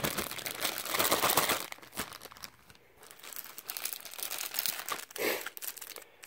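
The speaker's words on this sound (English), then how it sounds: "We have a plastic bag of goodies here." A plastic bag of accessories packed with a new 2019 Gibson Les Paul Studio guitar is handled and opened, crinkling and rustling loudly in busy bursts for several seconds, with a short crisp flurry near the end.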